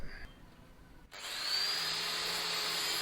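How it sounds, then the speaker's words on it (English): Salvaged steel pieces cut for a DIY hoverseat chassis: a quiet stretch gives way to an abrupt, loud, steady cutting whine with a bright high ring that continues to the end, with no talk. "And now there I'm just still cutting out some bits of steel and stuff"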